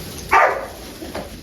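An excited herding dog working a flock gives one sharp close bark, then fainter yips, over a steady outdoor hiss.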